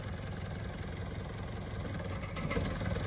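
Engine of a used mid-size four-wheel car idles in a steady, close, continuous drone with a dense low rumble and no speech.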